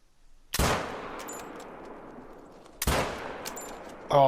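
Two sharp, loud rifle shots ring out at a deer in a hunting video game, each with a long decaying echo, spaced a couple of seconds apart.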